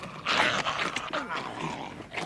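A dog growls and snarls in an old film scene, a rough, agitated sound that runs through most of the moment, moderately loud among background noise.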